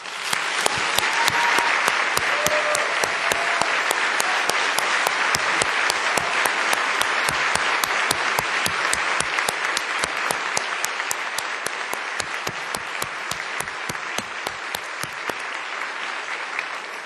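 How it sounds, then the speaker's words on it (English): Sustained applause from the chamber audience during a Nevada State of the State speech, a broad steady wash of clapping with sharp individual claps standing out, lasting well over fifteen seconds with no talk. "please join me in giving her a round of applause"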